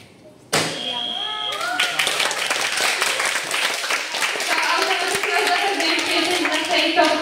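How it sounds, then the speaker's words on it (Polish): After a quiet moment, audience applause at a talent show in Bielsko-Biała breaks out abruptly and carries on as steady, dense clapping that fills the room. "Gratulacje, wielkie brawa."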